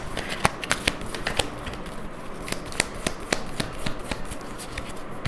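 Tarot cards shuffled and drawn for a reading, a rapid run of crisp, close card flicks and slaps with irregular bursts of clicks, moderately loud with no talk.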